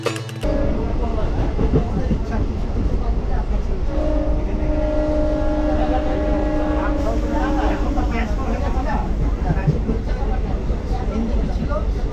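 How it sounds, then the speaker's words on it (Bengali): Haldibari–Siliguri DEMU special train at Raninagar Jalpaiguri station: a steady loud rumble of the diesel train with a sustained horn blast in the middle, under voices talking nearby. "ট্রেনের হর্ন দিয়ে দিয়েছে, এখনই ছাড়বে ট্রেন"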